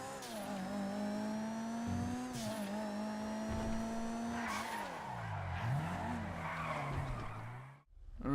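Sports classic car driven in GTA Online revs hard through several gear changes, the engine pitch climbing and dropping, with tyre squeal and skidding toward the end before a brief cut.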